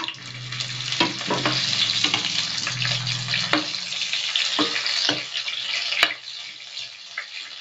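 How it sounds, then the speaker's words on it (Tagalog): Beans frying in a pan with steady sizzling, broken by scraping stirs and clinks of a utensil against the metal. "pagkatapos nga nating iprito ang ating beans"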